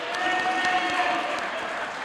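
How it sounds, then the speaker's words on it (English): A short burst of crowd applause at a wrestling show, steady clapping at moderate level with voices faintly mixed in. "Can we give her a round of applause?"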